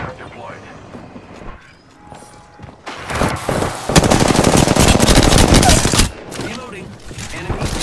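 Enemy gunfire in a video game, a dense, loud sustained barrage of automatic shots rattling close for several seconds, with game sounds and a voice around it.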